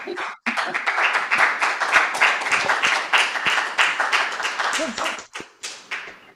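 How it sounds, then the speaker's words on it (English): An audience at an open mic night claps steadily for several seconds, a dense patter of hands that fades into a few scattered claps at the end. "Let's give her a clap and let her know that we're here."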